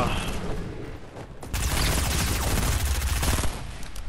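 Gunfire in the Fortnite video game, rapid bursts of shots that break into a dense, loud volley after a quieter start, with game effects around it.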